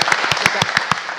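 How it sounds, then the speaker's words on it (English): Brief clapping closes a panel on the Arctic information environment, a quick run of sharp, evenly spaced claps over about a second, sounding like a small audience. "Please join me in giving a round of applause for this great panel."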